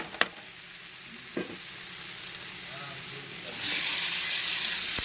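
Broad beans frying in a pan for a tomato curry, with a soft continuous sizzle, a few clinks of the stirring spoon and a louder hiss swelling near the end.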